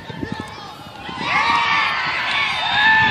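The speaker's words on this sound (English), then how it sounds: "The crowd's going wild over there." Crowd at Riis Park in the Belmont Cragin neighborhood cheering and shouting from a distance, the noise swelling after a second and staying loud, with children's shrieks and whoops mixed into the roar.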